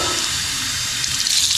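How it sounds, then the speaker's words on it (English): Water runs steadily from a tap at an old fort as a water bottle is filled, a constant close rushing flow with a slight rise in brightness near the end. "let's see if I can fill up my water bottle somewhere"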